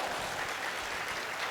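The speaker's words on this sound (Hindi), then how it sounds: "तालियां तो बजा" Dense, steady applause from a crowd at a drug-free Chhattisgarh training event in Raipur, a continuous wash of clapping throughout the short moment.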